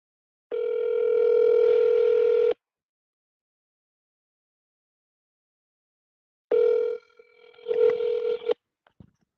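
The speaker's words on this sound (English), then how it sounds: "Answer the phone, baby. Answer the phone." Telephone ringback tone while a call waits to be answered: a steady two-second tone, a long silence, then another tone that breaks off into faint clicks and noise as the line picks up.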